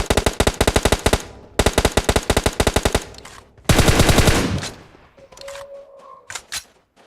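Rapid automatic gunfire from the PUBG Mobile battle game rattles in two long bursts, followed by a heavier sustained blast and then scattered lighter game effects and a brief tonal beep.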